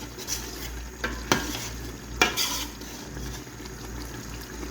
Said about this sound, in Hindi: अब 2 से 3 मिनट के लिए अच्छी तरीके से मैं इसकी थोड़ी सी भुनाई करूंगी